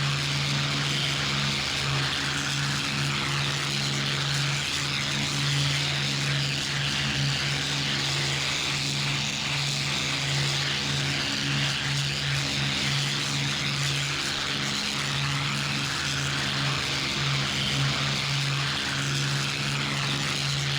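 Boulton Paul Defiant, a WW2 turret fighter with a propeller engine, drones steadily and loudly throughout with a constant engine hum and no gaps.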